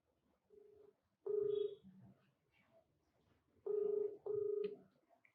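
A telephone call is dialed out and rings on the line. A short faint tone comes first, followed by loud paired ringback tones, with quiet gaps between them and no voices.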